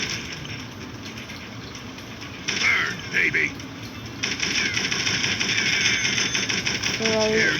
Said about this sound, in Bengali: এখন আমি মেশিন গানটা মিনি গানটা চালাচ্ছি